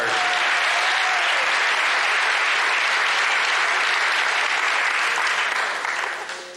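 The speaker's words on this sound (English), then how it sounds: "How many non-smokers are here tonight? Non-smokers, by round of applause." A comedy-club audience in New York, the non-smokers among them, breaks into a loud, steady round of applause that holds for several seconds and then fades near the end, with no talking over it.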